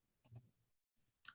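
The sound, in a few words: typing numbers on a calculator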